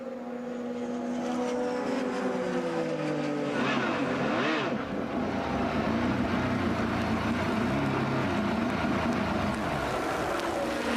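Indy car engine in the pits at the 1995 Indianapolis 500 on a first pit stop, droning steadily with wavering harmonics, a brief roughening midway, then continuing loud and sustained before it stalls.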